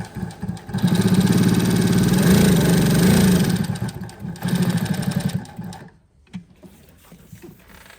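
A Juki LU-2810A walking-foot heavy-duty sewing machine stitching, a loud steady mechanical whirr with rapid needle rhythm that runs for several seconds, eases briefly, resumes, then stops into near quiet.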